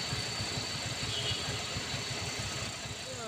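A Colt Diesel HD 125 PS truck with a very high load idles with a steady low rumble and rapid rhythmic knock, continuous and fairly close throughout the few seconds.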